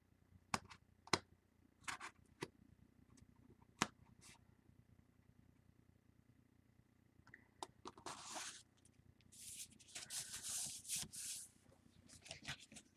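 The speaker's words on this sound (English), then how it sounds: "And burnishing it down." A folded paper crease on a My Minds Eye Mint Jubilee scrapbook album is burnished down by hand, with faint sharp taps followed by quiet rubbing and scraping strokes close up.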